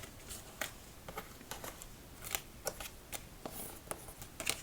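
Faint, quiet playing card shuffling during solitaire: a series of soft, irregular papery riffles and snaps, close but low in volume.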